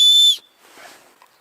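A small survival whistle on the sheath of an HX Outdoors D-141 knife gives one loud, piercing, steady blast lasting about a third of a second, followed by faint handling noise.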